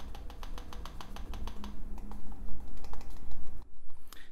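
Crisp clicks from the touchpads of an HTC Vive controller and a NOLO VR controller, pressed in a steady run of sharp taps close up, with uneven spacing and loudness and no talking.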